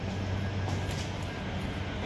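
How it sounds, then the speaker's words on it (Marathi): A Pune metro train stands at the station, giving a steady low mechanical hum and rumble with faint hiss, continuous and moderately quiet, no voices. "मेट्रो स्टेशनलाच ट्रेन लागलेली आहे"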